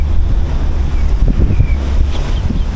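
Gusty wind at a hilltop viewpoint overlooking islands toward Langkawi in southern Thailand, buffeting the microphone with a steady roar and low rumbling bursts, loud and continuous.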